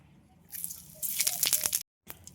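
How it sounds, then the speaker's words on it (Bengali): Cumin seeds hit hot oil for tempering and burst into a close, crackling sizzle with quick popping spits. The sound cuts out briefly, then resumes. "এই একই তেলের ভিতর জিরা ফোড়ন দেবো"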